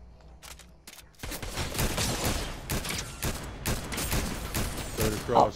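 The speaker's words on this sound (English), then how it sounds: "Being shot at, being shot at." Gunfire in the video game Fortnite (Zero Build squads) crackles in loud, rapid bursts that run almost continuously, with a few quieter single shots at the start.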